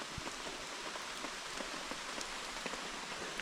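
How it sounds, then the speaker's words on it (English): Steady rain patters down on the surface outside a campfire camp in the Lithuanian wilderness, a dense, even hiss with scattered close drop ticks and no voices. "It is raining again"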